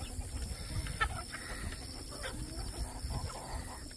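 Small young chickens cluck softly in a farm coop during morning chores, faint scattered calls over a quiet background with no one speaking.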